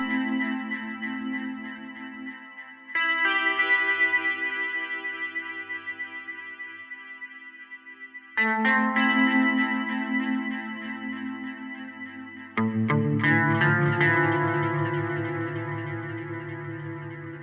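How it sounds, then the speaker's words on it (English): Mellotron M4000D rock guitar chords played on an iPad ring out with a lush, wide reverb and chorus shimmer, three separate strums each decaying into a long wash of sound. "I do have a preset here that'll give me that big reverb."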